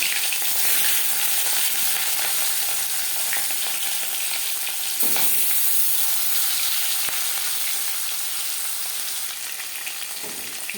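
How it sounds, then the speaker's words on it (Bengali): Katla fish pieces rubbed with salt and turmeric frying in hot refined oil, a dense, loud, continuous sizzle close to the pan, with a couple of brief knocks and scrapes and no talk. "তিন চামচ রিফাইন্ড অয়েল গরম করে নিয়েছি এবার দিয়ে দেবো লবণ হলুদ মেখে রাখা মাছ"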